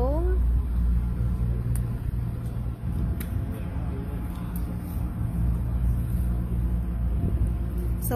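Trucks idle and rumble at the BC Ferries Duke Point Terminal, a steady deep engine drone with traffic noise throughout, while a person talks over it.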